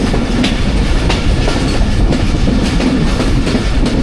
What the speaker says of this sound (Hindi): टनल में इंटर होने लगी है जाफ़र एक्सप्रेस